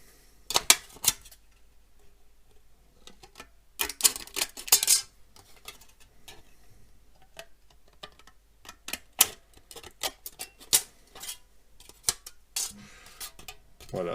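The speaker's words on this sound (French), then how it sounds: "Donc maintenant, on va découper." Scissors snip out traced template shapes in a quiet room, irregular crisp cuts arriving in short bursts and single clicks with pauses between.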